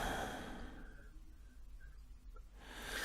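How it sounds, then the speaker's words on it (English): Soft, close breathing in a radio drama, a few slow audible breaths and sighs over a faint hiss with no talk. "I can hear you breathing"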